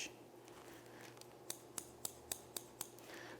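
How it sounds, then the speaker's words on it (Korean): Six crisp scissor snips in a steady rhythm near a poodle being groomed, close and distinct over a quiet background hum, with no talking. "주변에서 한번 가위질을 해서 소리를 익숙하게끔 해주신 다음에"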